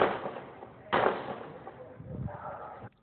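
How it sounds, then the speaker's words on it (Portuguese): Gunshots crack in the distance, a sharp report near the start of a muffled, low-quality recording, followed by a fainter burst. "O som dos disparos foi registrado por um vizinho"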